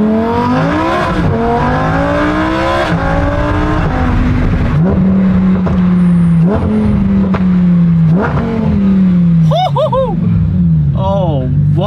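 Lamborghini engine revving hard and repeatedly while doing donuts, close and loud, with sweeping pitch rises and falls, bursts of throttle and tire noise, and people talking over it.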